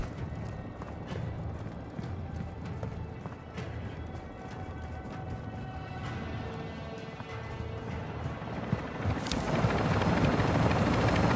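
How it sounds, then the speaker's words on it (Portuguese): Extraction helicopter arriving in the video game Call of Duty DMZ, a steady loud rotor rumble throughout that swells louder near the end. "helicóptero de extração a caminho"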